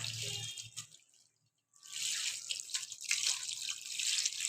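Water splashes and streams into a pressure cooker with salted peanuts for boiling, stops briefly, then pours again with a steady hissing flow, close and fairly loud.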